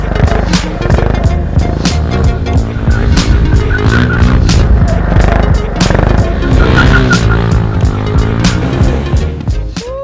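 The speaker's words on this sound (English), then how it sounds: "Man, those drifts are so fun." A bike drifting with tires skidding, its engine roaring loudly and steadily up close while the tires scrub and whine across the surface throughout.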